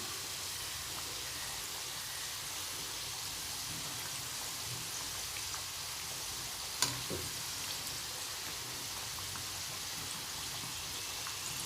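Badusha frying in groundnut oil, a steady soft bubbling hiss that holds evenly throughout, with one brief sharper crackle partway through and no voices.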